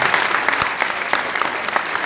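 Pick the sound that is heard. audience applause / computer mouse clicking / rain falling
audience applause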